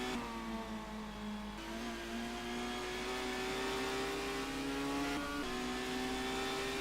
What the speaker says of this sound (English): And he's going to start his first lap just behind Josh Dant now.